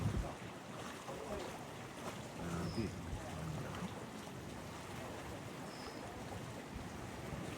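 Gusty wind rumbling and buffeting outdoors at Tamsui, Taiwan, steady and broad, with faint water and a brief spoken word.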